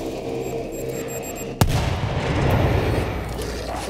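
A C4 charge detonating in the video game World War Z: one sharp, loud blast after a low ambient hum, followed by a rumbling roar that lingers to the end.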